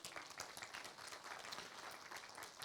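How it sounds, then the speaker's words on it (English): Steady applause from an audience at a literacy awards ceremony, a dense even patter of many hands clapping throughout with no pauses. "Give him another round of applause"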